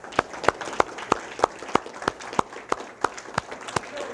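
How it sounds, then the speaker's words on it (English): Sparse applause for past members of a Toastmasters club at its 70th anniversary gathering, a dozen or so separate claps landing at a steady, even pace in a quiet room with no talk. "Let's give these people a round of applause."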